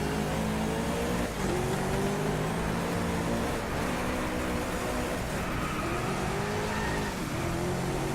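A car in the racing video game Driveclub, on a Japan track, drives with a continuous loud engine drone that climbs and dips in pitch as it accelerates and shifts, with no talking.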